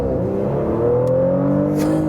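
A Porsche Panamera hybrid under hard full-throttle acceleration from a traffic light, heard from inside as a steady engine drone with rising tones climbing smoothly in pitch, close and loud throughout.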